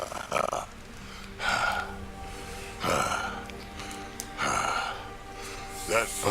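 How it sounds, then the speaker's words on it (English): A character in Mass Effect Andromeda breathes heavily, with repeated loud, raspy breaths in a steady rhythm about every one and a half seconds, close up over quiet game background tones. "He was just breathing for like 5 minutes."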